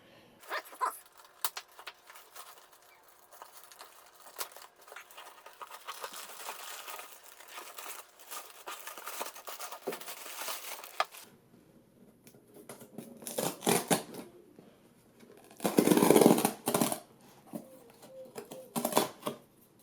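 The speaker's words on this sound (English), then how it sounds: "Right, so I got my trusted knife here. I'm just going to cut through it now." A knife slices through the packaging on a Samsung Galaxy S26 Ultra phone box, giving scattered scraping cuts and crinkling plastic with a louder tearing burst near the end, close and fairly quiet.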